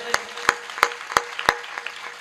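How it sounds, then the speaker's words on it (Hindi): An audience at a Hindi comedy-poetry recital claps in a steady rhythm, about half a dozen sharp, evenly spaced claps ringing out clearly over a quiet room. "एक बार अपनी अपनी मां के लिए ताली बजा के मुझे आदेशित कर दें।"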